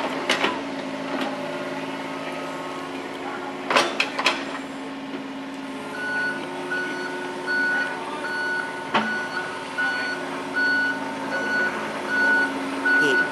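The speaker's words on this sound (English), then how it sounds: "He beeps to let us know he's moving." Steady reversing beeps from a John Deere digger working on a dig site, a regular electronic tone repeating over a continuous engine hum, with a few clanks from the machine.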